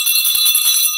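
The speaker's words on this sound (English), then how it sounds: "I'm ringing the bell to that because that is mind relieving." A hand bell rings with one loud, bright, sustained peal that fills the whole moment without any talk.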